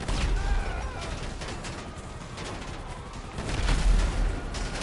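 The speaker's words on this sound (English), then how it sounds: "Yeah, because I'm shooting." Tank gunfire in a video game, a burst of heavy blasts and rumbling impacts that swell loud near the end over a continuous low rumble.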